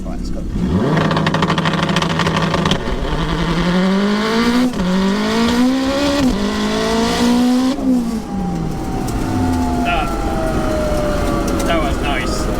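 A turbocharged all-wheel-drive Honda DC5 Integra Type R with a sequential gearbox launches hard, its engine screaming through several rising gear pulls with sharp pitch drops at each shift, loud and close throughout, easing off near the end.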